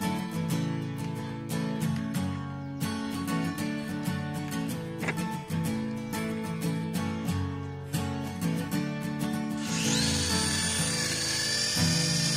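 A toy radio-controlled helicopter, the hand-gesture controlled kind, flies with a steady buzzing motor whine that holds close and loud throughout, then brightens into a harsher, higher-pitched hiss near the end.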